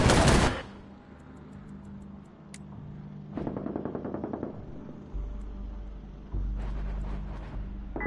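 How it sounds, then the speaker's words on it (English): A taser fired in a video game, two bursts of rapid crackling clicks a few seconds apart, close and sharp, over a low rumbling background. "Firing taser."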